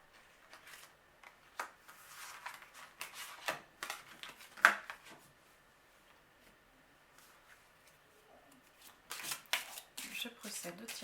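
Tarot cards are shuffled by hand in repeated soft riffling bursts, some louder snaps among quieter rustles, while a voice speaks quietly in between.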